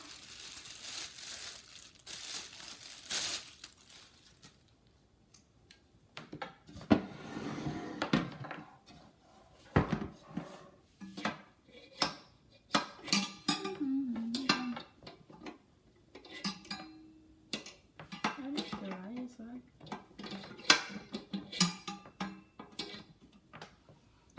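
Plastic knob and metal parts of a Bella 12x12 inch non-stick electric skillet being handled, giving crinkly rustles and scattered clicks and light clanks that come and go close by, with no talking.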